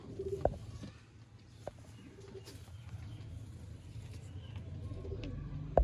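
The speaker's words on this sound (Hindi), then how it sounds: "बड़ा स्टैंडर्ड का कबूतर है।" Soft, low Sialkoti pigeon coos sound close by, a few murmuring calls over a faint background rumble with occasional small knocks.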